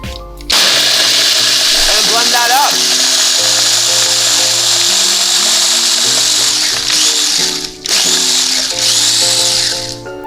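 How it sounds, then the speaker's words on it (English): A blender blending a cachaça cocktail with ice whirs loudly and steadily for several seconds, a harsh motor roar with ice grinding, dipping briefly near the end before running on. "grab our little blender here"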